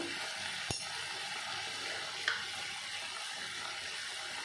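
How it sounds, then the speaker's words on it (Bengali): Egg malai curry masala with tomato paste sizzling and frying in a pan as it is stirred, a steady close hiss with a couple of faint clinks. "দিয়ে ভালো করে নেড়ে চেড়ে কষিয়ে নেব।"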